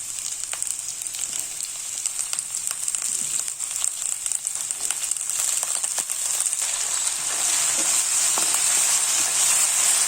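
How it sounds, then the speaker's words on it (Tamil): Vegetables for Kerala aviyal sauté in a hot pan, a steady sizzle and crackle running the whole time with occasional scraping stirs, growing a little louder toward the end. "இதையும் நல்லா வதக்கிக்கலாங்க."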